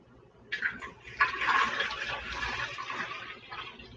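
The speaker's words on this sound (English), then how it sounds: "fill the reservoir to the fill line with water" Water pours steadily into the removable reservoir of a Keurig K-Cup coffee maker, a continuous splashing fill that starts abruptly, swells, and runs on at close range with no talking.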